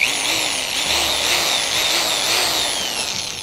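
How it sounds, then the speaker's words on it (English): A power drill boring one-inch holes into a block of wood, making a steady, loud high-pitched whine with a rough grinding edge that runs continuously and close up for the whole stretch. "we need to drill exactly 1 inch holes on each side"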